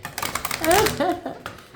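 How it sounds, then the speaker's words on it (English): A deck of cards being shuffled during a card reading makes a fast, crisp riffling clatter up close, while a voice briefly sounds over it. "I'm going to give it a shuffle."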